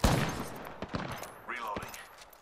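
Gunfire in the Apex Legends video game: a loud burst at the start, then several sharp separated shots amid game effects and a brief character voice line.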